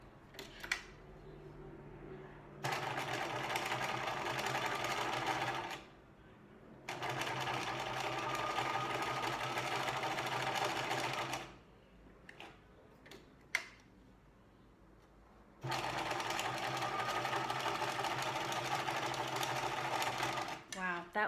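Sewing machine stitching a seam finish, running in three long bursts of steady rapid whirring, separated by quiet pauses with small clicks.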